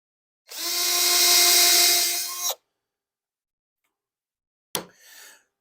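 A power drill bores into a wooden floating picture frame piece, one loud whining burst of about two seconds that stops abruptly, then after a silence a sharp click and a short quieter spin-up, close and without talk.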